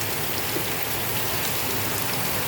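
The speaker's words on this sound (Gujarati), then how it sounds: "જો આ બાજુ જો વરસાદ ભૂકા કાઢે" Heavy rain pours down on Rajkot village in a dense, continuous roar of drops hitting surfaces, with no voices.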